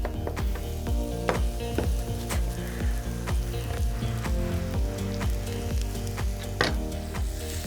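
Onion and garlic sauté in hot oil for a goat-meat and vegetable plov, a close, steady sizzle with crackling pops and occasional stirring scrapes, no voices.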